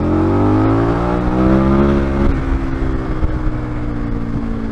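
KTM motorcycle going past out on the road, its engine note rising and then falling away as it passes close by, loud at first and then fading.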